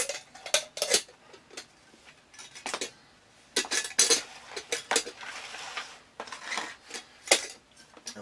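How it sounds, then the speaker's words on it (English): Stainless steel cup and homemade lid clink and scrape in a series of sharp, close handling sounds with short quiet gaps between them. "my little stainless steel cup with a homemade lid"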